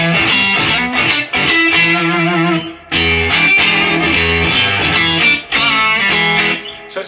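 Electric guitar played through a Fender '68 Custom Deluxe Reverb amp set around 6 on all controls with a little reverb, clean but lightly breaking up; loud strummed chords and riffs ring out in phrases with short pauses.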